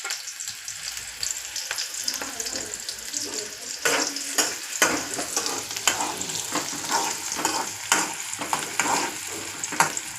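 Green chillies and onions crackle in hot oil, a bright, close sizzle with scattered sharp pops and occasional stirring scrapes over ten seconds.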